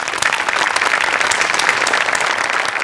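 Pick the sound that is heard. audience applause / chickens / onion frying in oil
audience applause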